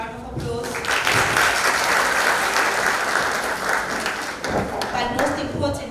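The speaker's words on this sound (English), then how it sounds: "Kindly give them another round of applause." A crowd at a G20 symposium applauds loudly and steadily for several seconds, with a brief dip in the clapping before it swells again.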